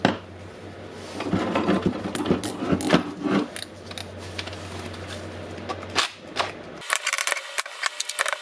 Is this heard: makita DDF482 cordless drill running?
yes